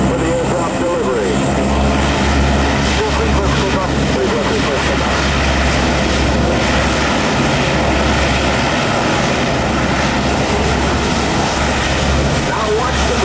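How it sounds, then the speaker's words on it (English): C-130 propeller aircraft engines at a military air show during an airdrop demonstration: a loud, steady droning roar with a deep throbbing hum runs throughout, while a commentator talks over it. "you'll see the venerable C-130 preparing to perform an airdrop"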